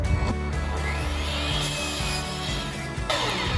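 A Metabo 254 miter saw, screwed down to a table, cuts through wood with a loud, continuous whining buzz and rough grinding that stays steady for several seconds.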